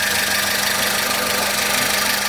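A 1999 Honda Civic engine idles steadily and close by, with an even, continuous hum and light mechanical clatter and no talk over it. The engine has a misfire and is hard to start.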